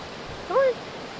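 River rapids at Ohiopyle State Park roar as steady, broad rushing water, with one brief high chirp rising over it midway.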